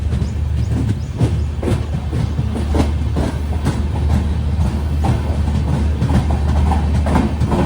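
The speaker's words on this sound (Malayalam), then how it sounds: "അങ്ങനെ ചിപ്ലൂൺ റെയിൽവേ സ്റ്റേഷനിൽ ഇതാ ട്രെയിൻ എടുത്തു" The Konkan Kanya Express pulls out of Chiplun railway station on the Konkan Railway in monsoon, wheels clattering in a loud continuous rumble with rhythmic clicks over the rail joints.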